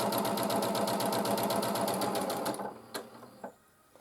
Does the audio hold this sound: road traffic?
no